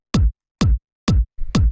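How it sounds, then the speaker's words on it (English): Single kick drum sample for acid techno, four short, hard-hitting and fat thumps with quick decays, separated by silence, with a softer extra hit just before the last one. "It starts with just this kick sample."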